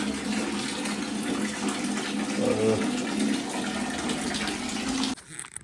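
Water pours steadily from a shower in a company bathroom, a dense continuous rushing close by that runs unbroken for several seconds and then cuts off abruptly near the end.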